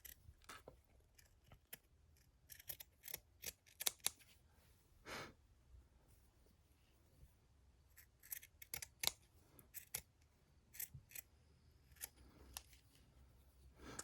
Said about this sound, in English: the scissors cutting the fabric